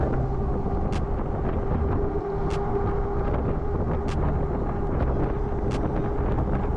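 Steady wind buffeting the microphone while riding a YR20 with a tailwind at around 26–27 mph, a constant loud rush with low rumble and a few brief clicks, no talking.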